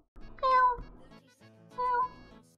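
A person imitates a cat, giving two drawn-out meows about a second apart, close to the microphone with no other talk.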